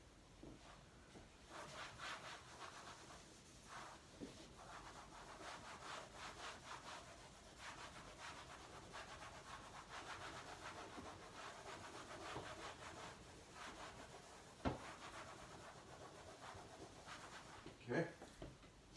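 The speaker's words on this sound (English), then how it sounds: "I'm going to try to erase this." Hard, rapid rubbing strokes scrub across a board in a steady back-and-forth rhythm, close and continuous, broken by a couple of sharp knocks.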